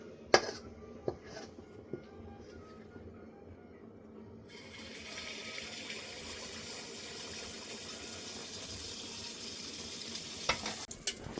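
Oil pitha batter frying in hot oil in a wok, a faint bubbling sizzle that grows steadier and louder partway through, with a few clinks and knocks.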